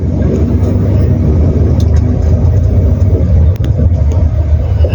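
A car pulls away slowly as the clutch is let out and gas is eased on, giving a steady loud low engine rumble heard from inside the cabin, with no speech.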